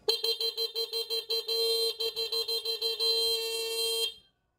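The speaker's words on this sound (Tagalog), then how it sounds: "Busina ulit." A car horn honks repeatedly during a vehicle inspection, with a rapid string of short beeps and then a longer sustained blast before it stops.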